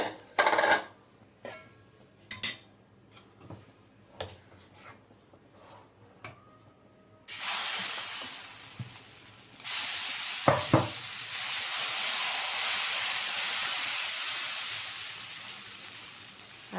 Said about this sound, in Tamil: இப்போது முறுவல் தோசை ஊற்றலாம்.